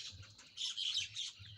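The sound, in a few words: myna bird flying off, story sound effect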